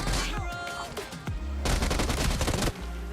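Rapid gunfire bursts in the mobile battle royale game BGMI, loud and close, with a dense stretch of overlapping shots through the middle and no talk.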